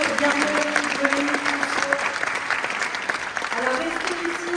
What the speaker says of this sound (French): On peut applaudir Laurence Garnery.